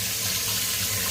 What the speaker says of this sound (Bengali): ভালোভাবে জলে ধুয়ে নেওয়া হচ্ছে